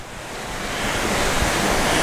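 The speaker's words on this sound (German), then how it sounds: "Und dann läuft das Wasser." Water runs steadily at an old water mill, a broad rushing wash that swells slightly louder as it goes, close and continuous with no voices.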